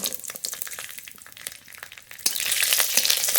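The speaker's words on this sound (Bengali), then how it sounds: "রসুনটা একটু ভাজা ভাজা করে নেব" Garlic fries in mustard oil in a wok with a crackling, spitting sizzle up close. It grows noticeably louder and denser partway through, and no one speaks.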